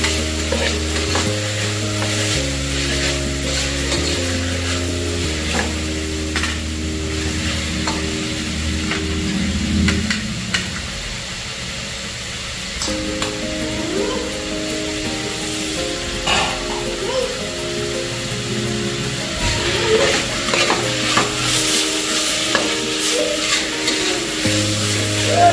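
Ginger garlic paste and onion fry in a pot for chicken biryani, a loud steady sizzle with repeated scraping stir strokes of a spoon against the vessel, and a humming tone running underneath.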